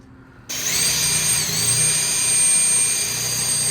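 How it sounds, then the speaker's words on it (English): A power drill whirs to life after a moment of quiet and runs steadily, drilling a hole in a metal bracket for a Bronco intercooler mount, its high whine holding loud and close to the end. "We got our drill bits from Harbor Freight. And then we're now going to make a hole here."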